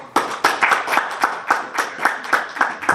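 A live podcast audience at SiouxperCon 2018 claps to cast a vote, with a run of loud, rhythmic group claps in a steady beat, about ten bursts across three seconds and no talking over them.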